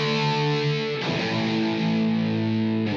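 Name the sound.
electric guitar power chord through effects pedal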